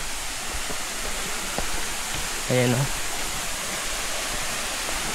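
A waterfall in Marinduque roars as a broad, steady rush of falling water close by, with a voice speaking briefly over it.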